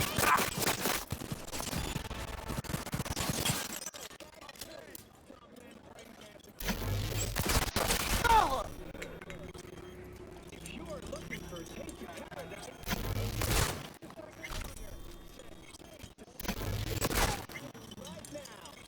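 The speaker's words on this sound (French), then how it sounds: "les balles elles traversent les murs les gars" Gunfire in the video game Cyberpunk 2077 sounds in several loud, rapid bursts separated by quieter gaps, with someone talking throughout.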